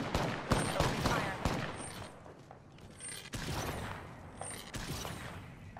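Gunfire from a shooter video game, Apex Legends with the R99 submachine gun, rattles in rapid bursts amid booms and mechanical clicks, loud and busy, with brief pauses between volleys.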